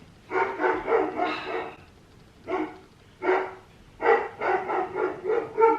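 Dogs bark in several bursts, a cluster of rapid barks, two short pauses, then another run of quick barks, fairly close and clear.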